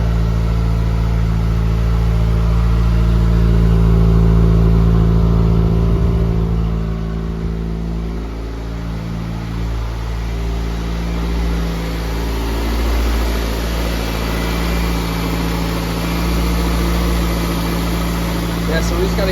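A Honda Integra DC2 fitted with a K20Z1 engine idles steadily through a near-stock exhaust tip on 2.5-inch piping, a low, fairly quiet hum with slight swells. A person talks over it at times.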